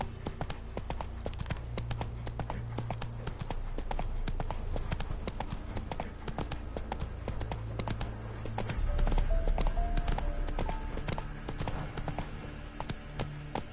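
Roach, a horse in The Witcher 3: Wild Hunt, gallops with steady, loud clip-clop hoofbeats throughout, sounding close, with game music and ambience underneath and a heavier low rumble in the later part.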